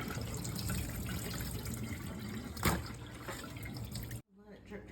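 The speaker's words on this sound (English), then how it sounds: "Let it drip dry for a little bit" Water runs and drips steadily from a soaked animal cape hung up after rinsing for taxidermy tanning, a close, continuous splashing patter that stops abruptly near the end.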